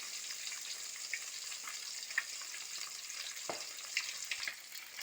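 Fish frying in hot oil gives a steady, bright sizzle with small pops and crackles, close up and fairly quiet, with no talking.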